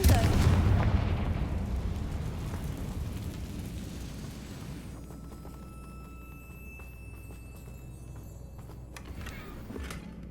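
A Confringo blasting spell explodes in Hogwarts Legacy, a loud booming burst at the start that rumbles and fades away over several seconds into a quieter game ambience.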